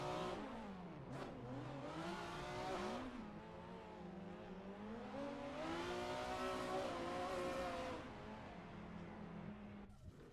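Racing car engine in the video game Assetto Corsa revving continuously, pitch rising and falling through gear shifts as the car drifts, loud and steady with a brief dip and a sharp burst at the end.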